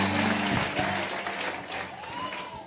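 A church congregation applauds, a loud sustained wash of clapping with some voices mixed in, continuing steadily before easing slightly.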